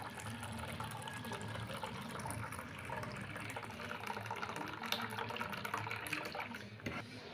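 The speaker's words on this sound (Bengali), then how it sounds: "রেখে দেওয়ার পর ওপর থেকে জলটাকে গড়িয়ে দিচ্ছি।" Water runs steadily over potatoes left soaking in a bowl to rinse off their starch, a continuous close pouring and splashing that stays even from start to finish.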